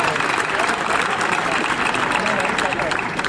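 An audience applauds at an Italian political gathering for a candidate's birthday, with steady dense clapping filling the room at even loudness throughout.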